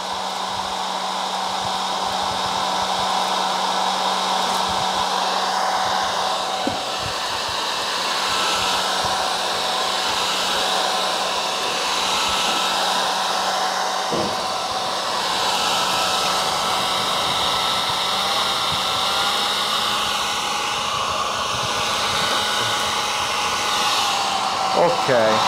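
A hair dryer drying paint during a mermaid-effect makeup application runs steadily and loudly for the whole stretch, a continuous whirring blow whose pitch wavers slightly, with no talking.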